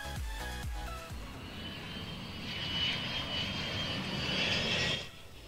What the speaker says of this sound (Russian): Просто беру звук самолета.